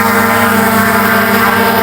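Propellers of a small consumer drone in flight give a loud, close, steady buzzing whine that holds at an even pitch with no talking.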